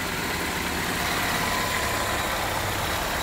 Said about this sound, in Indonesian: Suara mesin halus.